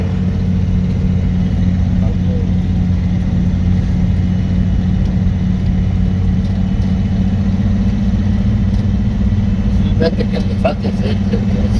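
A 1986 Ford F250 pickup truck engine heard from inside while driving, a loud, continuous low rumbling drone that holds steady throughout, with a few faint rattles near the end.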